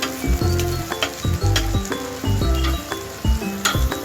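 Stuffed okra (bharli bhendi) frying in a pan, with a steady close sizzle broken by repeated clinks and scrapes of a spatula against the pan as the pieces are turned.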